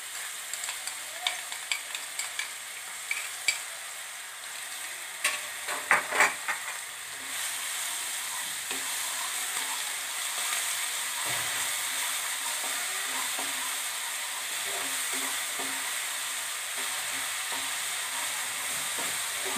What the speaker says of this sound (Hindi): अब हम इसमें डाल रहे हैं लहसुन का पेस्ट